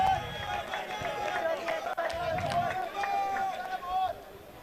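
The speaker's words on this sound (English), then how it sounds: "We can hear every fielder cheering for the bowler" Cricket fielders shouting encouragement to their bowler during a local premier league match, several voices calling out at once in the open ground over a constant background of chatter and noise.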